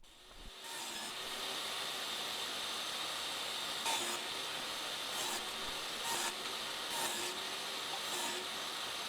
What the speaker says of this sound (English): I'll use my table saw to cut a 1/4-inch rabbet on the back of all these pieces